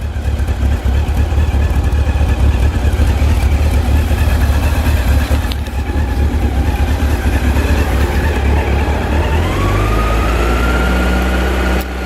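A year 2000 Honda CB 1300 Super Four motorcycle idles up close, a loud, steady, low engine rumble held throughout, with a slight shift in tone near the end.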